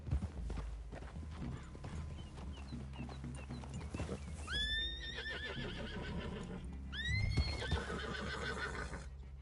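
Two loud horse whinnies ring out, one in the middle and one near the end, over a dense Red Dead Redemption 2 game soundscape with low rumbling and background effects.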